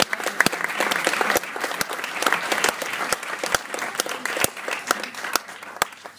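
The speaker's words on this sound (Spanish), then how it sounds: "Voy a pedir un aplauso para ellos" Applause at a book presentation, a crowd clapping steadily while several close, sharp individual claps ring out clearly above the rest.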